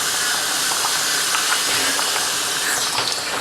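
A pot of water left on a stove gives off a steady, fairly loud broadband hiss of steam that holds unbroken throughout, with faint clinks and ticks above it.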